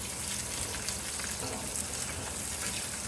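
Beef nuggets fry in hot oil with a steady, soft crackling sizzle that stays even and fairly quiet throughout, with no talk over it.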